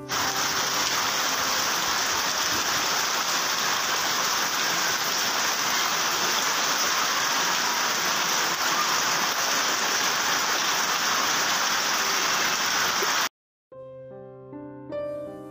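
Steady, dense rain falls at night behind a parked car, a loud continuous wash that runs unbroken for most of the stretch before cutting off abruptly, followed by a brief tonal snippet.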